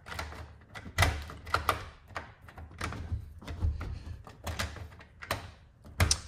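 A car door handle and lock are worked several times, giving a run of close mechanical clicks, clunks and latch thunks with short gaps between them, with no talking over them.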